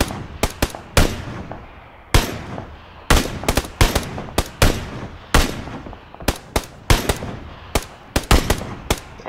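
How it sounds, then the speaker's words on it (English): Repeated gunfire from PlayerUnknown's Battlegrounds, loud bursts and single shots cracking in an irregular, rapid rhythm with short gaps between volleys. "Oh, somebody else is shooting at them."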